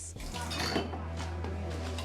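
Plates and cutlery clatter faintly as dishes are washed in a guesthouse kitchen, a steady low background of clinking with water and a low hum, voices murmuring under it.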